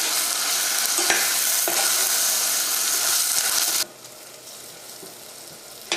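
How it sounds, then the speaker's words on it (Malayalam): Sliced onions with curry leaves fry in a pan toward golden brown for a Kerala-style mutton curry, giving a loud, dense sizzle with a few stirring clicks that drops abruptly to a softer hiss partway through. No one speaks. "ഈ സവോളയൊക്കെ മുരിഞ്ഞിട്ട് നല്ലൊരു ഗോൾഡൻ ബ്രൗൺ ആവണം"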